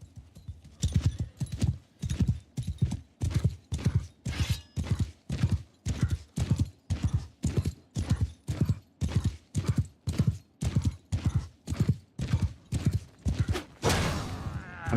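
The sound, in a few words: horse hooves clip-clop in video game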